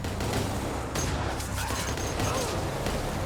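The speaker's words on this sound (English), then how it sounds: "A car speeds towards the camp gates, engaging in a fierce shootout with soldiers." Loud, continuous gunfire in a shootout between soldiers at a camp gate, with rapid overlapping shots filling the whole stretch and a speeding car somewhere in the mix.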